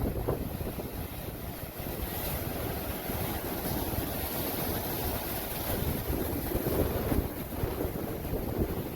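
Steady rush of surf and wind noise throughout on the Cornish coast between Tintagel and Boscastle, with waves washing continuously onto the shore and gusts buffeting the microphone; no voices.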